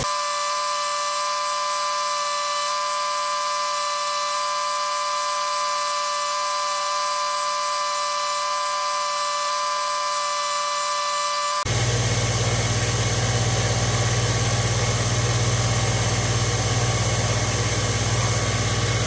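A power grinder runs steadily at a high whine, then shifts to a louder, rougher roar as bevels are ground on a knife, continuous and close with no pauses.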